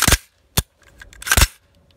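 Sharp mechanical clicks from dry-fire trigger pulls on a Radical Firearms AR-15 pistol with a trigger that fails to reset, three distinct close snaps separated by brief silences.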